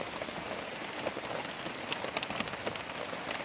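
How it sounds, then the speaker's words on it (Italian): Heavy, insistent rain falls outdoors during a spell of bad weather, a dense continuous patter with scattered sharper drops striking a surface, steady and fairly loud with no voices. "Ragazzi, la pioggia è bella insistente."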